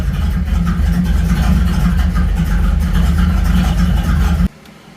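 A car engine idles steadily and loud right after being restarted, a rough-sounding engine that had been throwing a mass airflow code, then is cut off abruptly near the end.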